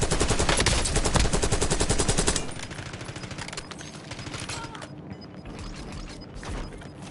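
Bursts of rapid automatic gunfire rattle loudly in Call of Duty: Warzone, a dense stream of shots for the first couple of seconds, then thinner, more distant firing and mechanical clatter with no talking.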